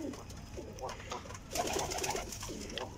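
Pigeons coo on a rooftop loft in a repeated, low, rolling rhythm, close by and fairly steady, with faint background noise.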